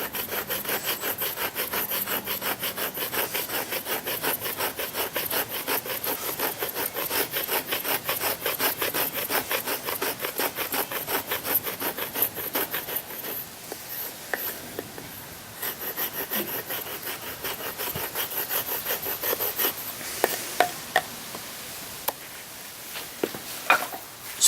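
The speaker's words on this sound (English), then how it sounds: "you can make some fine shavings with the back of the knife" Steel Will Roamer R305 knife spine scraping fine wood shavings, a steady close rasping stroke repeated rapidly for about twenty seconds, thinning out near the end into a few scattered scrapes and knocks.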